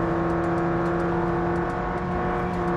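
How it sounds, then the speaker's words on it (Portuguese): Simulated engine of a 2023 boxy Volkswagen Gol with a 150 hp AP 2.0 turbo swap, heard in BeamNG Drive, holding a steady loud drone with sustained whining harmonics, no voices over it. "Olha como é que o barulho daquele carro é ridículo, velho."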